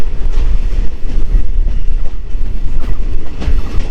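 A DEMU special train running on the line to Changrabandha, past Lataguri, with a loud continuous onboard rumble of wheels and diesel engine and occasional rail clacks, heard close up and without talk.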